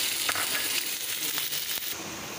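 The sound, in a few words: minced meat (keema) frying in a pan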